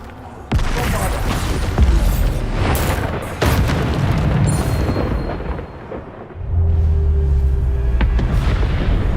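Bombarda spell blasts from a video game go off as sudden loud booms, with a rumbling, crackling roar following each hit and a deep droning impact near the end.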